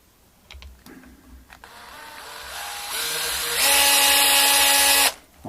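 Power drill on a low torque setting driving screws into the wood of a vintage Gibson SG guitar, a whirring motor that ramps up in pitch and volume, holds steady, then cuts off abruptly.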